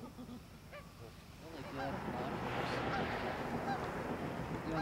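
Geese honk repeatedly at a moderate distance near a small island in Yellowstone, mixed with quieter voices and a low outdoor rumble.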